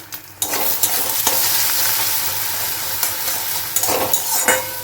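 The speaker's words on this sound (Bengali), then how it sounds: "একটুখানি তেল দিয়ে ডিমটাকে দিয়ে দিই দিয়ে দিয়েছি হচ্ছে ডিম একটু নুন মানে যেরকম চাউমিন করে সেরকম ডিমটাকে ভেজে নেবো আমি" An egg frying in a little oil with salt in a pan, sizzling steadily and close, with a few sharp scrapes and stirs of a utensil against the pan.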